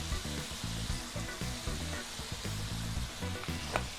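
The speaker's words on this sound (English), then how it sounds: "So right now this meat is starting to get kind of good and browned up." Ground meat browns in a hot pan for keto American chop suey, giving a constant close sizzle with occasional soft scraping and stirring taps.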